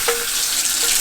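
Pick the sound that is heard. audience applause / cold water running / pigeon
cold water running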